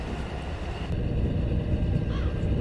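A Kiha 40 diesel railcar on Japan's Tadami Line in Train Simulator Classic, its engine a steady low droning rumble that grows slightly louder partway through, heard continuously with no speech.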